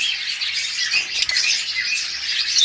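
Pet budgerigars, forpus parrotlets and a split-blue lovebird pair in a bird shop, bright overlapping chirps and squawks chattering continuously, close and fairly loud, with no voices.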